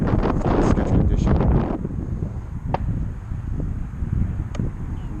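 Gusty wind of about 18 to 20 mph, gusting to 30, buffets a microphone at an outdoor RC flying field, with loud rumbling bursts that drop after two seconds into a softer, steady wind hiss with occasional faint clicks.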